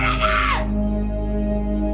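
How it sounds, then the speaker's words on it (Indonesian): A man in a horror film screams in anger. The yell is a single loud, strained cry lasting about half a second, with a falling pitch, over a low droning score that carries on after the cry is cut off. "Dr. Morello berteriak marah pada mereka agar mereka menjauh dari kamar kecil itu."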